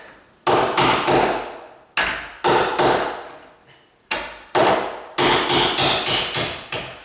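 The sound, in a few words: hammer tapping nail set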